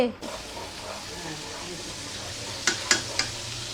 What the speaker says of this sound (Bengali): মাছগুলো ভালো করে ভেজে নিচ্ছে